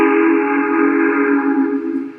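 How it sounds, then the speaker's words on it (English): A loud, sustained train whistle sounds a steady chord-like tone, holding without a break before fading slightly at the end. "a ghostly whistle sounded out"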